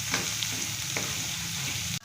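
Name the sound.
sautéing ground spice paste in oil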